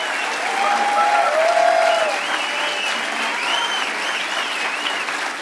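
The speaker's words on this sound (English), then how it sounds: "but they deserve an extra special round of applause." An audience at a hacker conference closing ceremony claps steadily in a sustained round of applause with some whoops, fairly loud and continuous throughout.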